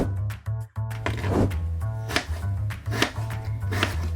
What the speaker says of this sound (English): To get started, we need to cut the potatoes, dicing them fairly thin to make sure they'll cook all the way through.